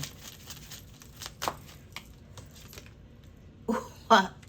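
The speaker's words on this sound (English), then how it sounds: "All I did was shuffle the deck and pull out the card." Tarot cards being shuffled, giving soft papery crinkles followed by two louder, crisp riffling bursts near the end, close and otherwise quiet with no talking.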